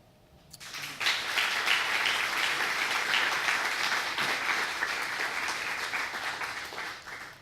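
After a poem at a literary reading, the audience breaks into applause after a brief quiet moment, the clapping rising suddenly and holding as a dense, steady wash before easing slightly.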